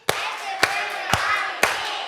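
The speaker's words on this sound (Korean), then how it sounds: "두 번째 날이라 그런가 박수가 더 잘 맞는 것 같아요." A group of children at a summer Bible school claps together in unison, four sharp, evenly spaced claps in a steady rhythm, close and clear with little else around them.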